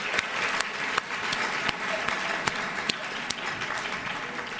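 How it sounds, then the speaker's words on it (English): Audience members clap steadily for seniors at a high school honors society induction ceremony, a continuous wash of applause with a few sharper individual claps standing out throughout. "give them another round of applause."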